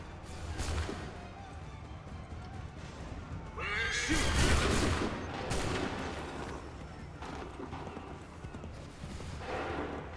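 Musket volley gunfire in Assassin's Creed III, a loud burst of shots erupting midway through a busy battle scene, with shouting voices and a horse's whinny over the din.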